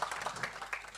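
Brief, faint applause from an audience at a MILDECA ceremony in Sud-Artois: a short, dense patter of many hands clapping, fairly distant and without speech over it.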